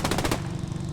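In a multiplayer video game match, a quick volley of automatic gunfire rattles out at close range, then breaks off into a softer background rumble.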